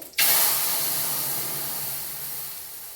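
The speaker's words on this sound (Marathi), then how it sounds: "वरण फोडणीला घालते" Cooked dal poured into a hot Maharashtrian tempering, giving a sudden loud sizzle that starts abruptly and then holds as a steady, slowly fading hiss, close and alone without talk.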